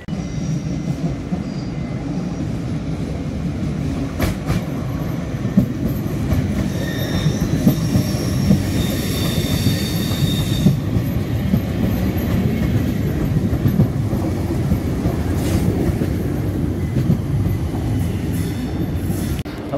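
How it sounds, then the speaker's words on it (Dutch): An NS ICM4 intercity train pulls into a station with a loud, continuous rumble of wheels and rails, brief squealing in the middle, and steady rolling noise throughout. "Daar komt onze trein aan, losse ICM4."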